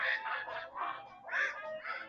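Repeated nasal quacking calls in quick succession, several bursts close together, loud and near with no talking.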